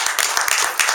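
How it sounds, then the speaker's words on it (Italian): An indoor crowd claps at the opening ceremony of the San Patrizio Festival in Livorno, a dense, steady applause with many hands beating at once, loud and close, lasting the full second. "give a round of applause for Giacomo and all of his staff who look after us so well every time"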